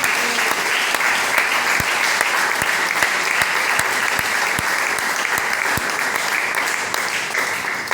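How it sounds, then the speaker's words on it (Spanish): A church congregation claps for Jesus Christ, loud continuous applause filling the room with a few sharper individual claps standing out, no speech over it. "Den un aplauso a Jesucristo"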